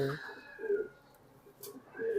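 Pigeons in a racing pigeon loft give low, repeated coos in several soft bursts, with a voice talking at times over the birds.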